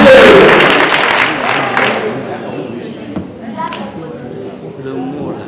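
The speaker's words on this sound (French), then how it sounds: "applaudissez-le fort" Applause bursts out loud from a spelling-contest audience for a boy entering ninth grade, then fades as voices take over amid thumps and the murmur of the room.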